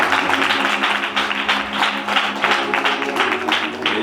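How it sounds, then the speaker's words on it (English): A church congregation clapping together during a service, a steady rhythmic patter of many hands in close pulses, fairly loud and sustained throughout with no talking over it. "Let's clap for our men."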